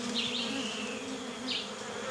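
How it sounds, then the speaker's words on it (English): Bees swarm around a wild beehive with a steady, deep droning buzz, a few individual insects whining louder as they pass close. "I can hear buzzing. I can hear like a deep drone, actually."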